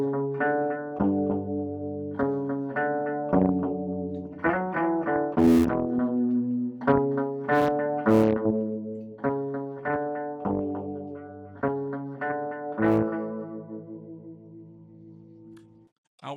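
A mid-60s Gretsch Tennessean electric guitar strung with flatwound strings plays a clean, rounded single-note melody with some chordal touches, steady phrasing and moderate loudness, heard alone and close.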